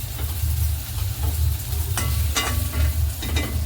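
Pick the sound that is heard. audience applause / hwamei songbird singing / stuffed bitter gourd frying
stuffed bitter gourd frying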